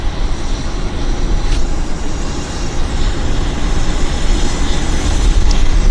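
A WestJet airliner's engines at Vancouver airport give a loud, steady broadband roar that holds constant throughout, with no voices over it.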